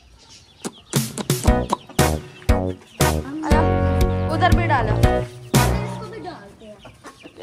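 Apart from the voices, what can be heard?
chickens clucking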